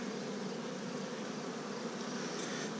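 A swarm of honeybees drones steadily around an opened hive, the close, continuous buzz staying level with no voices over it.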